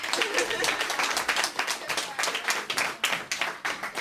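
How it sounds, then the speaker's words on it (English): A crowd claps for a featured woman artist at a Sunday ladies' night at a small venue, a steady burst of many hands with cheers mixed in throughout. "Clap for that."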